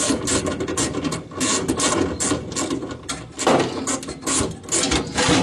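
Steady mechanical working on 1.5 mm steel sheet panels, drilling and bolting them together in a workshop while fitting a Xantia interior into a Traction 11B; close, continuous whirring with rhythmic clicking and rattling throughout, no talk.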